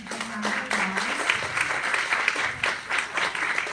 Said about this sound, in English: let's give Dr. Martins-Welch a big round of applause